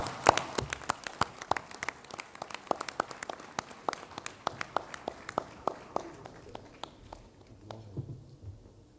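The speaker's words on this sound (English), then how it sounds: "Can we please clap hands for him?" An audience at a CAF general assembly applauds for the Prime Minister of Côte d'Ivoire, a sustained burst of many hands clapping in a large hall that thins out toward the end.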